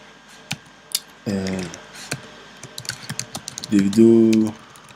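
Computer keyboard typing of HTML code, with scattered sharp key clicks at an uneven pace and two short stretches where someone speaks over the clicking.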